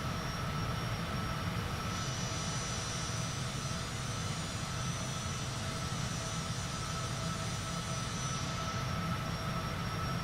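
A Cessna Citation CJ4 business jet climbs out in Microsoft Flight Simulator, its engines making a loud, steady jet roar with a whining tonal hum held constant throughout, no voices.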